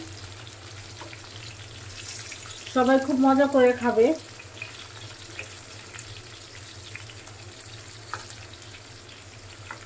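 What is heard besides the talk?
potatoes frying in a pan for chicken fry biryani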